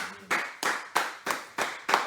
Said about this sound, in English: let's clap our hands for Jesus